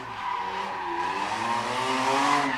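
A car does a burnout at a drag strip test and tune session, tires squealing with a rising, wavering screech over a loud engine drone, heard from a short distance.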